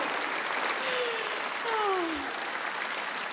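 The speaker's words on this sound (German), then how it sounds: "Applaus." Steady applause from a cabaret audience at a show by the two-person orchestra Mackefisch, a sustained clapping wash for several seconds, with a few faint whistle-like tones gliding over it.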